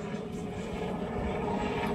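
Helicopter flying overhead, a steady droning rotor and engine wash that holds evenly loud from start to finish with no clear voices.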